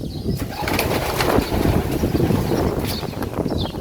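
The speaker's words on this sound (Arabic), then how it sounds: "ده أوضة الحمام." Pigeons in a pigeon room on a farm with outbuildings, producing low, steady murmuring coos under wind rumble and outdoor noise, fairly close and continuous.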